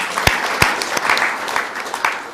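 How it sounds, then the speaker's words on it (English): Audience applause at a social business design lab session: a crowd claps in a dense, steady burst, with several sharp individual claps standing out as the clapping carries on for a couple of seconds. "Let's give a big applause for them."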